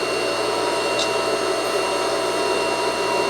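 A homemade 2x48 belt sander runs steadily and smoothly, giving a constant loud whirring hum with no breaks.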